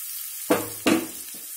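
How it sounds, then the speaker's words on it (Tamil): Chopped onions for a Tamil kovaikkai puli kulambu are stirred in a pan of hot oil, giving two short bursts of close sizzle and stirring with a faint third, over quiet kitchen background and no voices. "வெங்காயம் வந்து நல்லா வதங்கணும்"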